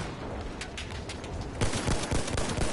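Rapid machine gun fire in Battlefield 1, a continuous rattling stream of shots that grows louder and closer partway through, with no talking over it.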